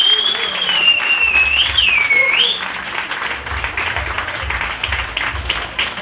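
Crowd applause for a band at an outdoor courtyard culture event during a village fair, a sustained wash of clapping with a whistle-like tone sliding over the first few seconds.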